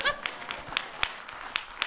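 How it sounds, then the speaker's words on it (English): Scattered claps from an audience after a talk on air quality data tools, a handful of sharp hand strikes spaced irregularly and fairly faint, with murmured voices underneath. "Please keep clapping."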